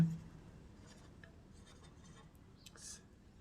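Pen strokes scratch faintly while a trigonometry solution for heights and distances is written out, a few soft scribbles and scrapes close by in a quiet room with no talking.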